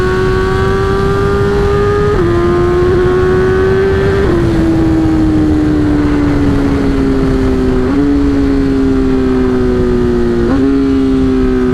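BMW S1000 motorcycle ridden at steady speed, its engine note loud and close with smooth upshifts stepping the pitch every few seconds, wind and road roar underneath.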